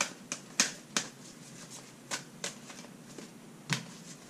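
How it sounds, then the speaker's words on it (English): Oracle cards being shuffled by hand give a series of sharp, quiet riffling snaps. About nine short bursts come at irregular intervals over a faint background, with no speech. "while I shuffle."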